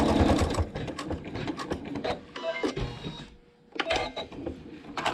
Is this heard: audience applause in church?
no